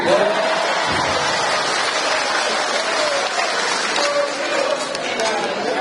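Applause at a dialogue with farmers in Wonosobo, a dense, steady wash of clapping from a large crowd that continues throughout, with murmuring voices underneath.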